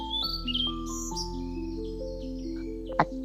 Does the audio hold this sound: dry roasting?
no